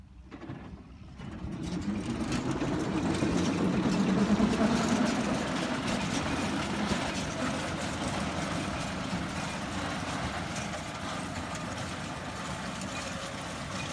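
A Sönmezler hay baler machine runs with a steady, rumbling engine drone that swells after a quiet start and then holds at a loud, even level outdoors.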